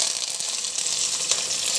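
A spice mix crackles and sputters in hot coconut oil for a Kerala egg and drumstick-leaf thoren, giving dense, close, continuous popping and sizzling with no talk.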